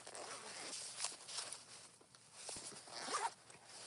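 A zipper pocket on a handmade wallet slides open in a few quick, rasping pulls, close and fairly loud, with light handling rustle in between.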